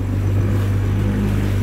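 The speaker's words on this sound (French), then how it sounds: "Je pensais pas le passer comme ça au moteur le long des côtes" A sailboat motoring along the coast under its engine, a steady low engine drone with a strong constant hum, continuous and close, with no voices.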